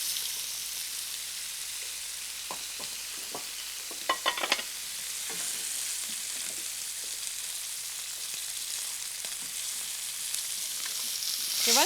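Food browning in hot bacon fat in a pan on a French home-cooking stove, a steady close sizzle and frying hiss with a few brief stirring scrapes and clinks partway through.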